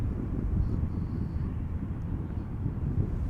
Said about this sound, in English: The airplane behind it is arriving from Rio de Janeiro. Is a 777-200 ER.